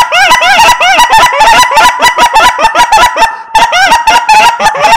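A goose call imitates Canada geese with loud, rapid honks and clucks, a dense close run of calls that dips briefly midway before picking back up.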